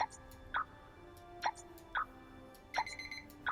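An in-game timer alarm from Master of Orion sounds as a series of sharp, bright beeps at uneven intervals. It stays fairly quiet, with faint background noise between the beeps.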